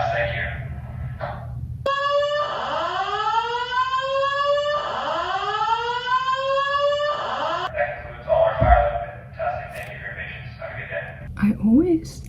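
Fire alarm system under test in a Seneca college residence: two long rising whooping sweeps with stacked harmonics, loud and close, sounding back to back before the alarm cuts off and leaves room noise.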